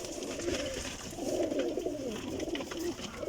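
Pigeons, including Teddy Golden and Sialkoti birds, coo in soft low rolling phrases that repeat steadily up close, several calls overlapping without pause.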